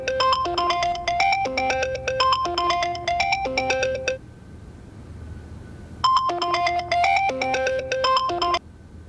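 A phone rings with a melodic electronic ringtone while a call is placed to a mother, two bursts of repeated tone patterns separated by a short pause, clear and close with no talking.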